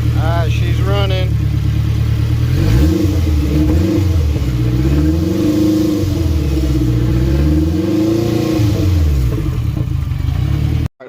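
An Acura RSX engine fitted with a Humble Performance turbo kit runs steadily and loud up close, its low idle rumble rising and falling through a few light revs, with a brief clatter at the start.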